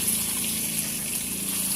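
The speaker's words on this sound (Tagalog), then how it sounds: "Bunga, lalagyan na po natin siya ng tubig." Water pours steadily into a cooking pan for pesang kulapo, a steady close-up gush with a faint low hum beneath and no talking.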